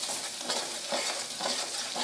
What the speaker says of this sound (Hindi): और अब मैं इसको भून लूंगी।